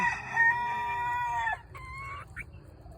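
Chickens call close by, a drawn-out crow-like squawk followed by a few shorter clucks and cackles from hens over quiet background.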